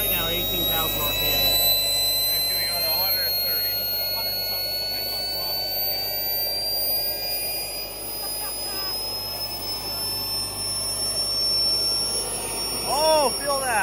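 A small jet engine runs at 18,000 RPM on a giant model B2 bomber, giving a sustained high-pitched whine with rising tones over a steady roar. Excited voices talk over it in places.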